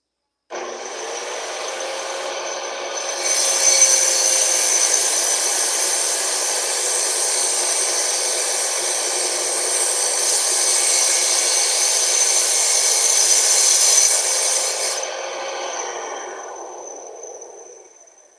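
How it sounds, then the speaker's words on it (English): A corded power tool trims a piece during a casual workshop tinkering session, whining steadily for about seventeen seconds with a continuous loud buzz that rises slightly in the middle before winding down and stopping. "Let me trim this one so I can get a look in there real quick."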